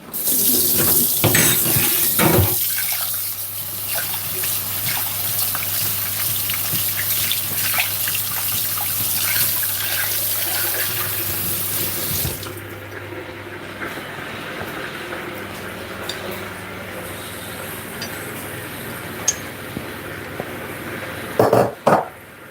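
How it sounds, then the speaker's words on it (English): A kitchen tap runs to fill a kettle, a steady hissing gush that lasts several seconds, then shifts to a softer, lower stream as the water level rises, ending with a few clunks as it is shut off. "So I'm just sticking my kettle on a bit."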